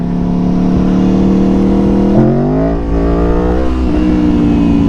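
A sport motorcycle revving hard for a power wheelie, a loud close steady engine drone whose pitch jumps upward partway through and then settles again, with no talking.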